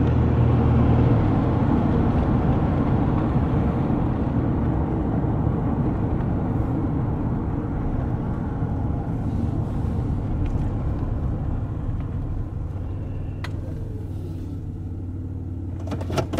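Steady low engine and road rumble from inside a moving car, continuous and fairly loud, with faint rattles near the end and no talking.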